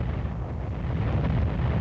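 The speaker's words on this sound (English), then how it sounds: "And artillery is delivered." Artillery fire explosion from a military fire mission, a deep sustained roar of blast energy with rumbling low end that holds steady and loud for nearly two seconds, with wind buffeting the microphone.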